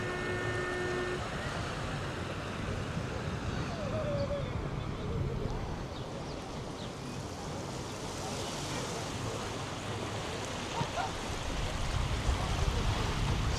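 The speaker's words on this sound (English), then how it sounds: "it's a well-loved beach in the centre of Larnaca city." Waves break and wash continuously at Finikoudes beach in central Larnaca, Cyprus, a broad steady rush with wind noise on the microphone, a voice heard faintly at times.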